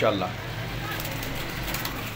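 Pigeons coo softly amid a steady noisy background, with a voice briefly audible.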